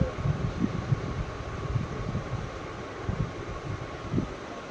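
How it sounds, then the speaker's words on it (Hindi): Strong wind blowing outside a house at night, a steady broadband rush with low gusty rumbles rising and falling throughout, fairly constant and without speech. "इस तरीके की हवा चल रही है"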